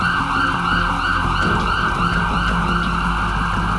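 A cartoon ambulance wails with a loud, continuous siren, its repeating high-pitched tone holding steady over a low motor rumble.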